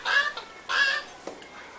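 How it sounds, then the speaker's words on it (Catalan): Farmyard chickens cluck in two quick close bursts, followed by a fainter short cluck, with nothing else heard around them. "i moltes gallines."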